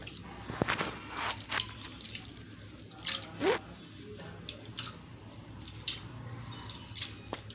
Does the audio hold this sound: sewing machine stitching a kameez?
no